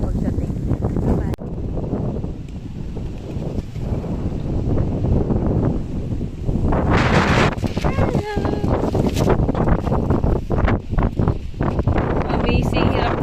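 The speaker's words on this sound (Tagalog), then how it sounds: "Putek, ang lakas kasi ng hangin." Strong wind buffets the microphone in a continuous loud roar, with rustling and gusty surges throughout and a voice talking over it.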